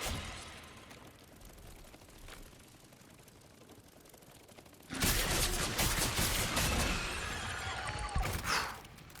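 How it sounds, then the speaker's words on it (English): Pistol shots and a dense burst of gunfire from the Resident Evil 4 VR game, with quieter scattered pops at first, then loud sustained rapid firing for several seconds. "I probably should not have been using my pistol, though."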